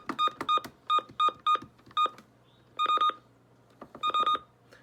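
Valid-press button beeps from a Sima FirstAlert WX-150 weather radio: a series of short electronic tones in quick clusters of two and three, clear and close against a faint hum.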